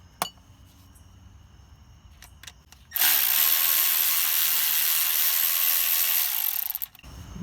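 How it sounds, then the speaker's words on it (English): Power driver backing out the screws that hold a vehicle's neutral safety switch: a few light clicks, then a loud, steady high-pitched whir running for about four seconds before stopping abruptly. "we're gonna unscrew these screws, which are holding the neutral safety switch in"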